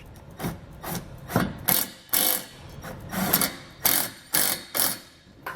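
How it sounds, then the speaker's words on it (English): An 11mm socket ratchet and wrench tightening small bolts and nuts while mounting a Curt trailer hitch on a 2017 Mercedes-Benz GLE, about ten short, sharp bursts of ratcheting clicks in an uneven rhythm, close and clear. "We'll tighten up these small bolts and nuts using an 11mm socket and wrench"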